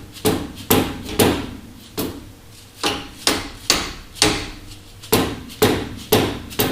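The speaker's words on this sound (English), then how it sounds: "just gently tap it back in place" A series of dull, solid taps from a soft mallet setting a part on a Dana 60 axle, about a dozen in a loose steady rhythm, close by with no talking.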